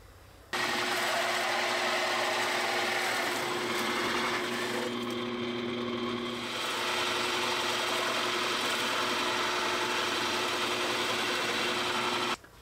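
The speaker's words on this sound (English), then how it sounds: "let's get those holes drilled using a 2-inch Forstner bit" A 2-inch Forstner bit bores holes in wood for a scarf holder: a steady, loud drill press whine runs continuously for about twelve seconds, with a slight dip in the cutting noise partway through.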